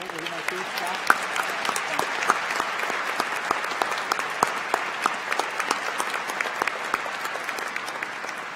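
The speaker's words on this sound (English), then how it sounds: "So big round of applause for Scott." Commencement audience at a College of Pharmacy and Health Sciences ceremony applauds Scott with steady, dense clapping that holds throughout, with a few sharper individual claps standing out near the front.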